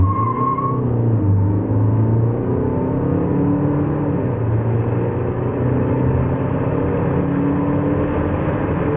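A 2017 Kia Sportage 2.0-litre E-VGT diesel SUV with automatic transmission accelerates hard, its engine note steady and loud with rising tones across the run, heard from inside without talk.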